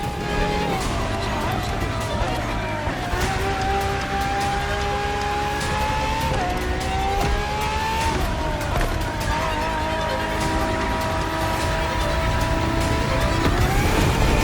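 Ferrari FXXK racing engine in The Crew Motorfest, a loud, high-pitched engine howl climbing steadily through gears with sharp shift drops, constant and close throughout.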